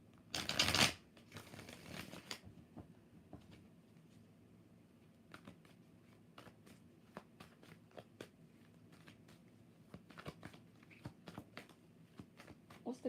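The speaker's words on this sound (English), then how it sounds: "Last shuffle." Tarot cards get a loud, close riffle shuffle at the start, followed by quieter scattered taps and slides of the deck being handled, softly and intermittently.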